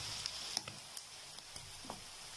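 Garlic paste frying with onions in a pan makes a faint, soft sizzle with scattered light pops and ticks, and no voices.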